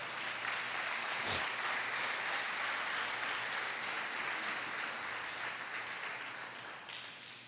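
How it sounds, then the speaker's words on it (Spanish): A church congregation applauds during a sermon, steady sustained clapping filling the room throughout with a brief louder burst near the start, no voices above it. "Bríndale un aplauso a Dios."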